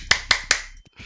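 Three quick, sharp seal-like hand claps in an even rhythm, close and crisp, followed by a faint soft sound.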